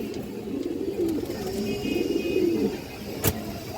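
Pigeons of an old breed offered for sale coo softly in a repeated low warbling, fairly close, over a steady background murmur with a brief sharp noise near the end.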